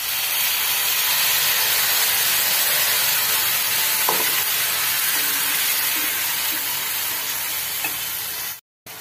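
Tomato puree hitting hot oil with cumin and asafoetida, a loud continuous close sizzle and steam hiss lasting several seconds, without talk, then a sudden cut.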